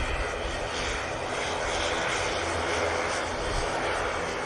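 An airliner taking off from Manchester Airport for Copenhagen gives a dense, continuous engine roar at steady loudness through a few seconds, with no voices.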